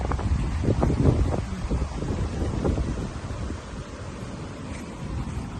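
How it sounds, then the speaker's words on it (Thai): Strong outdoor wind buffets the microphone in loud, continuous low rumbling gusts on a morning walk to a school in England, steady throughout with no talking. "ลมแรงมากค่ะทุกคน"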